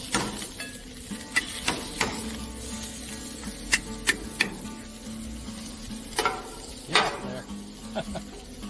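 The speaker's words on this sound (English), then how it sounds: "We're going to take our spatula and we're going to mash them." A metal spatula smashes boiled potatoes on a hot Blackstone griddle, sharp clacks and scrapes recurring irregularly over a low sizzle, close and fairly loud.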